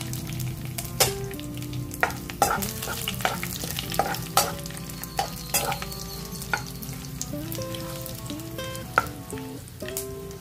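Dried red chillies fry in a pan for a chicken fry dish, a steady close sizzle with repeated sharp clinks of a spatula stirring against the pan.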